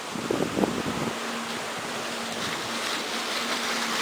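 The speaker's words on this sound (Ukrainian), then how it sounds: "там вода протікає" Water spills from a cooling pool past a closed gate in a continuous broadband wash with wind noise and a faint steady hum, a brief voice-like burst at the start.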